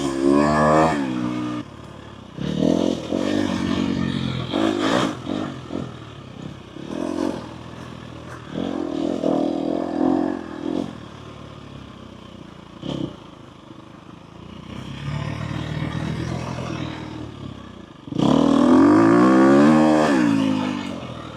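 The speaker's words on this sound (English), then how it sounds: "I'm riding a dirt bike." Dirt bike ridden in the Arizona desert, its engine revving and rising in pitch in repeated bursts, close and loud, with dips between throttle pulls and a strong final acceleration.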